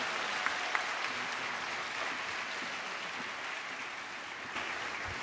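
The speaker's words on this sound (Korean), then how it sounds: "다시 한번 큰 박수로 격려하도록 하겠습니다" Steady applause from a church congregation at an autumn special dawn revival service, a continuous even wash of clapping at moderate distance, with a couple of brief sharper knocks early on.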